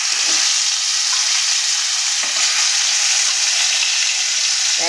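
Snakehead fish pieces, salted and rubbed with turmeric, fry in hot oil in a wok with a loud continuous sizzle and a few soft stirring knocks, with no talking.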